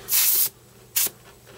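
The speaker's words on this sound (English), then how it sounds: "So I am spraying at about 26, 28 psi" Two short bursts of a Badger Sotar 20/20 airbrush spraying paint at about 26 to 28 psi, a longer hiss followed by a brief one, close and loud against a quiet background.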